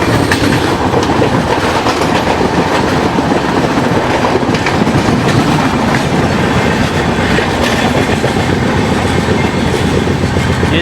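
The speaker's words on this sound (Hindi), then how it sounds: "देखो ये बगल से क्रॉस हो रही है गोलकोंडा एक्सप्रेस।" The Golconda Express rolls past on the adjacent track near the Secunderabad yard, a loud, close, continuous rumble with rhythmic clickety-clack of wheels over rail joints and faint wheel squeal.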